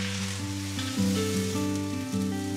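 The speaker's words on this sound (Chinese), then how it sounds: "因此回到家，他也会主动帮阿妈炒菜" Food is stir-fried in a pan, giving a steady, even sizzling hiss throughout under a layer of background music.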